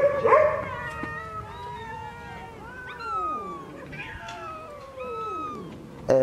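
Several cats meowing and caterwauling at a cat shelter in Aleppo, overlapping cries near and loud, with a dog barking in the mix and no talk.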